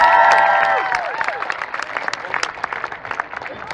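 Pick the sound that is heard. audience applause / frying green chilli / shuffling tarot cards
audience applause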